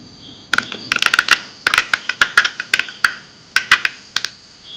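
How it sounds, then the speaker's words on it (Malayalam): Mustard seeds pop and splutter in about two tablespoons of hot oil in a heated pan while a prawn curry is started, giving a close, irregular burst of sharp crackles and snaps. "കടുക് പൊട്ടിട്ടുണ്ട്."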